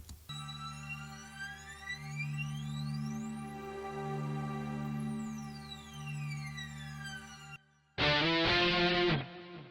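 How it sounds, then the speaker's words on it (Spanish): Distorted electric guitar blended with an effect in a rock mix: a sustained, droning tone with slowly sweeping, filtered overtones for about seven seconds, a brief drop-out, then a louder, denser burst to the end. "es como una especie de mezcla de distorsión de guitarra con algún tipo de efecto"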